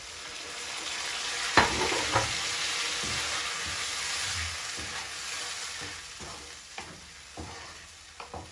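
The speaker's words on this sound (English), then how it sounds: "At this point now, I bring in my blended tomatoes." Blended tomatoes sizzle steadily as they fry in a pot for a Kenyan matoke beef stew. A spoon scrapes and clinks against the pot several times, giving sharp taps over the continuous frying hiss.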